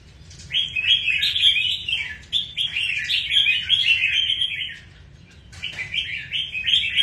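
A caged songbird chirps close and loud in a long, busy stream of bright twittering phrases, pausing briefly once before resuming over a low background hum.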